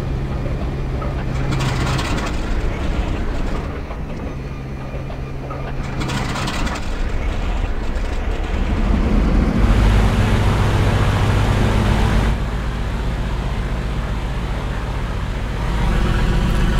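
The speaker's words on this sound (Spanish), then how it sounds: "5 Saboya S-79 Esparviero arrancan motores." Five Savoia-Marchetti S.79 Sparviero bombers start their engines on a Mallorca airfield, a dense, loud rumbling drone that swells and shifts in stages as more engines join in, with no voices.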